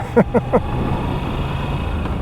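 A 2021 Moto Guzzi V7 Stone 850 motorcycle with a rough-running engine rides in second gear. It gives a steady low drone, with three short bursts near the start.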